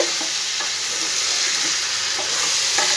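Ridge gourd and potato cubes fry with spices in a hot pan, giving a continuous bright sizzle punctuated by a few soft scraping stirs. No voices break in.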